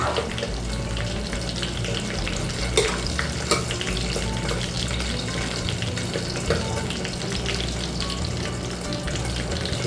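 Moringa pods sauté and simmer in a pan, with a continuous busy sizzle and bubbling and a few sharp clinks of a utensil against the cookware.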